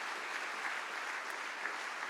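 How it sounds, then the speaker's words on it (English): Faint, distant applause from an audience after a talk at a CrossFit event in Newcastle, a steady even patter of many hands with no voices over it. "can we please give Casey another massive round of applause?"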